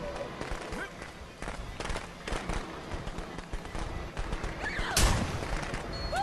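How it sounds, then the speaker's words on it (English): Firecrackers go off in the Friday the 13th video game, with a few sharp crackling bursts early on and a louder pop near the end, over busy game noise and voices. "He still fell for the fireworks."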